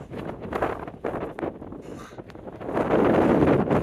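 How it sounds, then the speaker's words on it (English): Strong wind on the coast near Whitby, England, buffets the microphone in loud gusts, roaring and rumbling without a break and building to a heavy, sustained blast near the end. "It's very windy."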